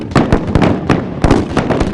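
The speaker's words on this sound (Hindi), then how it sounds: "The artillery fire is on," Artillery fire booming during an Indian Army cavalry charge display, a rapid series of loud, sharp blasts and bursts in close succession, each with a short rumbling tail.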